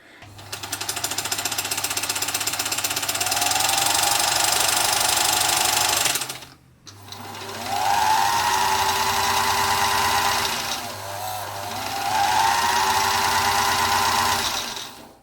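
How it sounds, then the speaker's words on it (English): Singer 222K Featherweight sewing machine running after servicing, a fast steady mechanical chatter that speeds up and winds down in three long runs with brief pauses between, close and loud, no talking. "Let's just have a wee listen to the machine now that it's been serviced"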